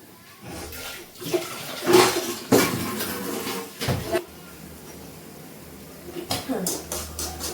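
Water splashes and runs in bursts with occasional clinks of dishes and pots being washed, close by, with voices in the background.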